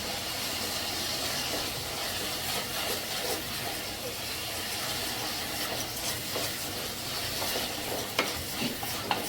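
Onions and mashed tomatoes sautéing in a pan for fish kulambu make a dense, constant sizzle with occasional stirring scrapes, close and with no voices.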